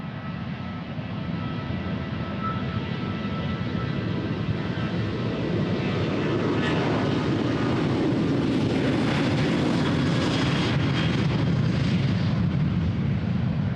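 An airliner departing from runway 36L, the Polderbaan, at Amsterdam Schiphol Airport roars past in a steady, loud jet rumble that swells and brightens as it climbs out, with no talk.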